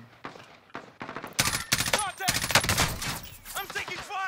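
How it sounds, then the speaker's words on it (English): Rapid gunfire in Warzone, sharp cracking shots that build into a loud sustained exchange of automatic fire, with voices talking over parts of it. "I'm taking fire! Left side."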